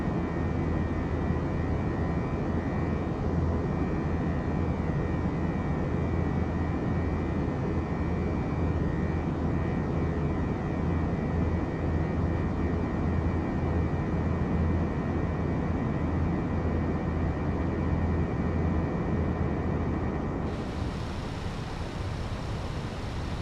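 Simulated Airbus A320 cabin engine noise during an airliner's departure in a flight simulator game, a steady, loud roar with a constant whine held throughout, the tone brightening suddenly near the end.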